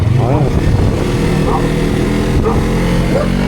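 A Yamaha R25 sport motorcycle engine revs loudly and up close, its pitch rising and falling in repeated throttle blips while people talk over it.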